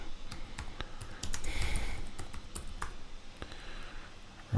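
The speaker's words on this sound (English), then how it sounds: "I'm going to type in Mount Gambier" Rapid computer keyboard typing at close range, a steady run of light clicks with a few heavier key strikes and a loud thump at the very end.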